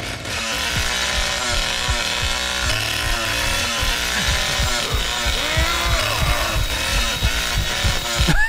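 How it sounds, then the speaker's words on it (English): A chainsaw in the Texas Chainsaw Massacre video game sputters and stalls, giving rough, uneven engine bursts with loud mechanical rattle that runs continuously and close throughout. "Chainsaw stalled."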